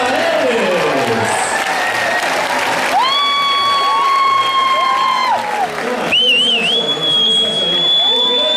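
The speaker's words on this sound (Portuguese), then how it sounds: "Palmas pra eles!" A stage audience claps and cheers for a knife-throwing act at a comedy show, with steady sustained applause, whistles rising above the crowd and voices mixed in throughout.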